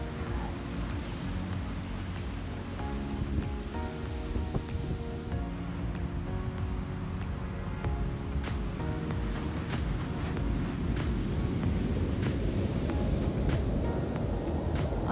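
Ocean waves surge and wash at a beach in Iceland known for powerful sneaker waves, a continuous roar of surf mixed with wind, steady throughout and with no talk.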